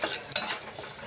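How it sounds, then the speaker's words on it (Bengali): Whole cumin seeds and bay leaves sizzle as a tempering in hot oil in a pan, with short stirring scrapes over about a second of close, moderate frying. "ফোড়নটাকে নেড়ে ছেড়ে ভেজে নেব"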